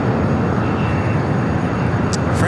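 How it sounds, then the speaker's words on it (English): An Alaska Airlines Boeing 737 MAX 9 takes off from a busy airport, its engines producing a steady, loud broadband roar that holds constant throughout with no talk. "Next takeoff here on the south side, Alaska Airlines Flight 207 heading to Portland at 737 to MAX 9."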